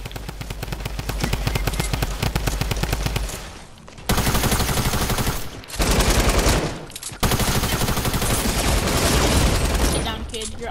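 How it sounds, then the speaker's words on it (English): Rapid automatic gunfire in Fortnite, loud dense bursts of shots rattling in long streams with a few short gaps between volleys. "People are shooting at me."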